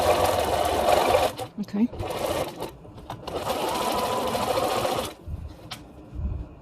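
Sewing machine zigzag stitching over a wire edge on a fabric mask, running in loud buzzing bursts broken by short pauses, close up, while a person speaks briefly.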